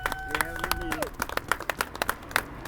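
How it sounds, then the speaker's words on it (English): Scattered handclaps break into short applause at a new crosswalk opening, with a voice speaking over the start before the claps take over. "That's where you clap right there."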